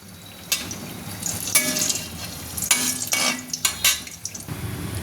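Malpua fries in a pan of oil with a soft, steady sizzle, broken by several sharp scraping and clinking bursts as a utensil turns and lifts the sweet pancakes.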